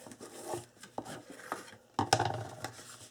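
A paper fold for a 5x5 wallet-style album is burnished with a few short rubbing strokes and light taps, close and quiet, without speech.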